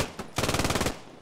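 Machine gun fire from the WWII shooter Post Scriptum comes as one loud, close, rapid burst of roughly ten rounds, preceded by a couple of isolated shots and ending in a short trailing echo.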